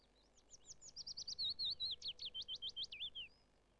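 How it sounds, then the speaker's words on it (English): Willow warbler song in a British garden, a single descending cascade of sweet, rapid notes that swells and then fades over about three seconds, clear and close. "here again is the willow warbler's song for comparison."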